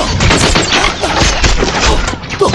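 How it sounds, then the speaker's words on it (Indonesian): Dense bursts of gunfire crackle continuously in an action scene from the film From Vegas to Macau, loud and chaotic, with heavy booms and rapid shots layered together. "Wei segera mengajak Cool masuk ke sebuah ruangan rahasia agar aman dari tembakan."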